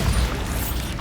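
A single heavy explosive blast from the Bombarda spell in Hogwarts Legacy on PC, a loud, thick boom that rumbles and fades over about a second, with no voices.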